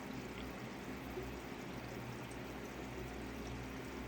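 Steady broadband rush of water from an aquarium power head pouring into a sump, a constant, even flow with no pauses, fairly close and uniform throughout.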